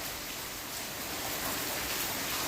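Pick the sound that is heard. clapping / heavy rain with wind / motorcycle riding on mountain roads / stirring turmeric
heavy rain with wind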